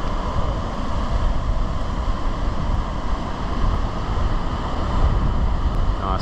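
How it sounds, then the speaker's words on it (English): Ocean waves break steadily below a cliff at Cape Inscription on Dirk Hartog Island, Western Australia, with constant wind buffeting the microphone. The surf and wind form a loud, unbroken roar throughout, with no voices. "Nice few waves coming in."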